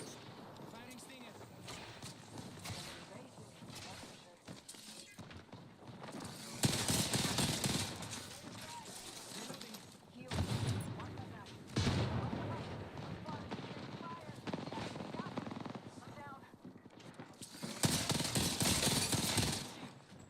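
Stinger weapon fire in the Apex Legends video game, heard as three loud bursts of rapid rattling shots separated by quieter stretches, with people talking over the action.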